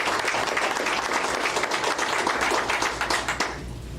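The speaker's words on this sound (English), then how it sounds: "Well, everybody's getting applause" Audience applause at a school district board of education meeting, a dense burst of clapping from the room that holds steady, then thins and fades out near the end, with no speech during it.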